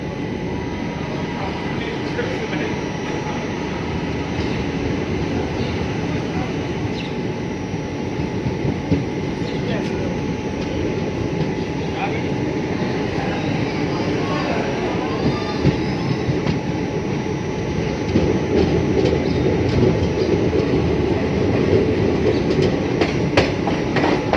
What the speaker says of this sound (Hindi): 2 मिनट रुकने के बाद अपनी ट्रेन रूपनगर से डिपार्च कर रही है।